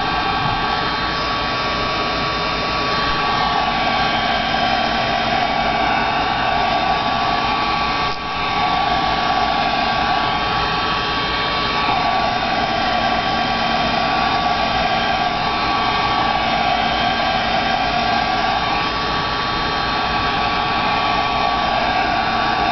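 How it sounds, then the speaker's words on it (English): A heat gun dries and seals a coat of finish on a rock paperweight. Its loud, continuous blowing whoosh holds steady and close, with only slight wavering and one brief dip midway. "each time that I use my heat gun to dry and seal the previous coat"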